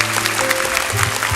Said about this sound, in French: tu arrives et on t'applaudit, alors très très fort